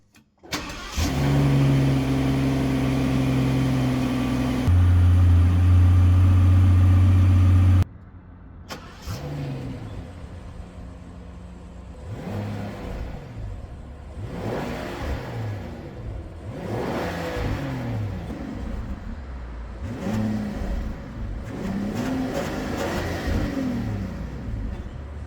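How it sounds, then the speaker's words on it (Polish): Rolls-Royce Cullinan Series II with its 6.75-litre V12, recorded outside: a loud steady drone with a clear pitch step, then a cut to repeated smooth revs that rise and fall in a regular rhythm, close and alone. "pewnie jesteście bardziej ciekawi, jak brzmi to V12 na zewnątrz"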